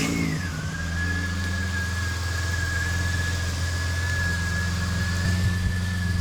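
A Ford Falcon AU car engine running steadily after a coil pack fix, a close, even hum with a faint whine and no talking.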